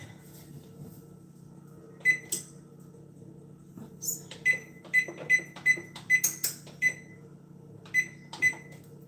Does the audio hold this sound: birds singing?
no